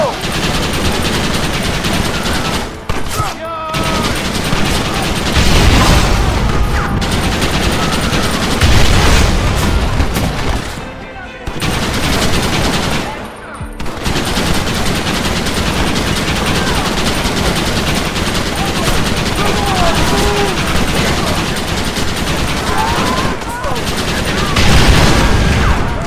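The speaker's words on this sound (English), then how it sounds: "You man the Gatling gun, Marston!" Rapid Gatling gun fire in the video game Red Dead Redemption, loud and sustained bursts with brief pauses, mixed with explosions and voices talking over the battle.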